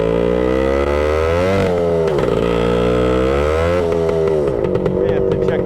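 A 1966 Suzuki Bearcat motorcycle engine running close by, a loud steady buzzing idle that rises and falls with revs, with a person talking over it.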